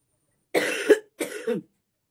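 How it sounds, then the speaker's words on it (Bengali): Two harsh coughing bursts close to the microphone, the first longer and the second shorter with a rough trailing edge, followed by silence. "কাশি এখনো কমেনি"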